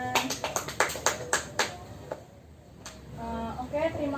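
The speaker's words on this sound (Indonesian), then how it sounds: "Tepuk tangan." In a classroom microteaching lesson, a small group claps about eight quick, distinct times in a brisk rhythm before the clapping stops and a voice begins speaking.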